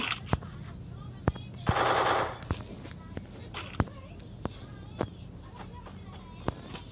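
Gunfire in the mobile battle royale game Free Fire, with sharp single shots popping every half second or so and one brief burst of rapid automatic fire, heard over a low game ambience.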